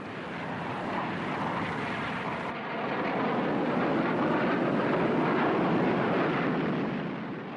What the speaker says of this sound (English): There were furious air combats over Hanoi and Haiphong as every available MiG was thrown